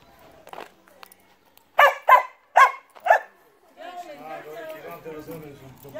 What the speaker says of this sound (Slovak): Na čo je ten pes tu uviazaný na metrovej reťazi?